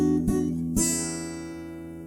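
Two plucked acoustic guitar chords ring out close together, the 6th, 2nd and 1st strings plucked together, the second sustaining and slowly decaying in a quiet room.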